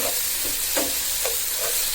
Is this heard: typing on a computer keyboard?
no